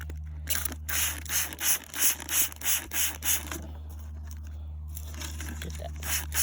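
Geode nodule being scrubbed clean under water, rhythmic rubbing strokes repeating close by over a constant low hum and splashing water, then a quieter stretch of spraying.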